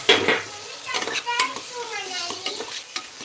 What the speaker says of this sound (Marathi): हे मस्त तळून घ्यायचं तेल सुटेपर्यंत त्याच्यानंतर टाकायचं कोथिंबीर आणि टोमॅटो